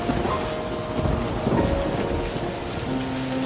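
Heavy rain pours steadily with a rumble of thunder in a cartoon storm, a dense, loud, continuous wash with no voices.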